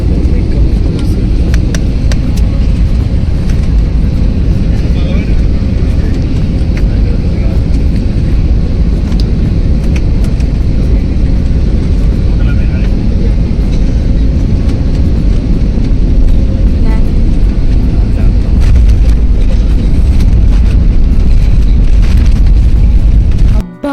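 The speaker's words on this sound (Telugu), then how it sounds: "ల్యాండ్ అయ్యేటప్పుడు కూడా భయం అవుతుంది, పెద్ద సౌండ్ వస్తుంది." A passenger airplane lands, and a loud, steady engine roar fills the cabin without a break for the whole stretch, close and rumbling.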